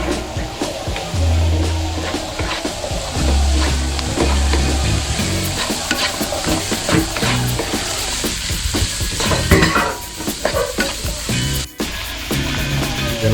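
Pork and broccoli are stir-fried in a pan, with loud continuous sizzling broken by repeated scraping and clattering stir strokes of a utensil against the pan, close up throughout.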